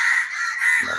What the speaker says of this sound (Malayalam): കാക്കകൾ വന്നിട്ടുണ്ട്